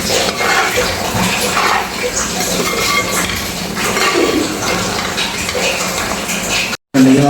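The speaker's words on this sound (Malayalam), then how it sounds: "നമുക്ക് ഒന്നുകൂടി ഇളക്കി കൊടുക്കാം." Soybean pickle is stirred in a pot with a continuous, loud, wet churning and scraping, close and without pause, ending in a brief dropout.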